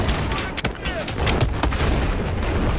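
Gunfire in the video game Battlefield 4, loud dense bursts of shots and booms crowding the whole stretch without pause, with a voice talking over the noise.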